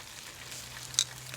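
Dry-aged 42-day New York strip steaks sear on a hot Weber kettle grill, a steady soft sizzle and crackle running throughout with one brief sharper pop near the end.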